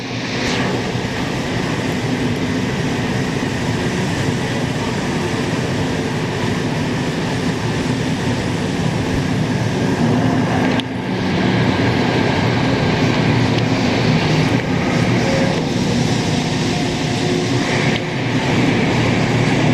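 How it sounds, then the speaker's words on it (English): A train rumbles past close by in a continuous loud roar of wheels and wagons, steady throughout with a brief shift in tone midway. "a nice clean train too"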